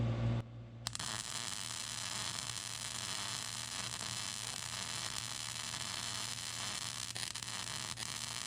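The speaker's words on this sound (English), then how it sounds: "I'm just gonna stitch weld this first, so I'm just doing small" MIG stitch welding a homemade steel bumper and winch plate for a Mitsubishi Montero SR gives a steady, close crackling sizzle that starts within the first second and runs without a break to the end.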